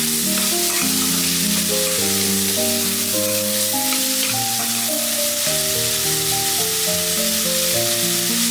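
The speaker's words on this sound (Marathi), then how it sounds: "सगळं एकजीव करून घ्या" Lentils stirred into spiny gourd frying in oil in a home kitchen, giving a steady sizzle beneath prominent background music throughout.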